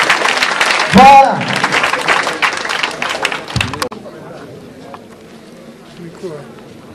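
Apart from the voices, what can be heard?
children applauding at school ceremony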